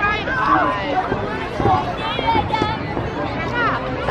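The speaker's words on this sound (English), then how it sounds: "There's the crowd, a lot of people here." Dense outdoor crowd at a Fourth of July fireworks show in Layton, Utah, a steady hubbub of many overlapping voices and chatter close around, with individual talkers and shouts standing out from the babble.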